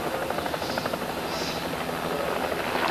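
A helicopter that ferries people to the airport after a 1993 stock car race drones steadily with a constant rotor whine and broadband rumble, loud and unbroken throughout.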